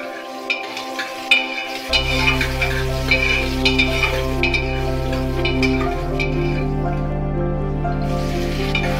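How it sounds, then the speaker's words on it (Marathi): Onion fries in oil in a pressure cooker with a steady close sizzle, punctuated by irregular stirring clinks and scrapes, with no talking. "कुकरमध्ये तेल टाकून आपल्याला कांदा हा परत करून घ्यायचा आहे"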